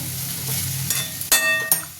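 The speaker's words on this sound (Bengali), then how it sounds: "এই যে গোটা গোটা তোমার রসুনগুলো ভাজা ভাজা হয়ে গেছে" Close hiss of whole garlic cloves frying in oil, broken by a few sharp metallic clinks of a utensil against the pan.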